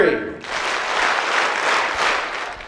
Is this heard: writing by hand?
no